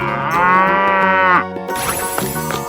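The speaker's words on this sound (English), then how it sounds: "Cow." A cartoon cow moos in a 3D animal video game, a loud sustained moo followed by a brighter burst of game music and effects.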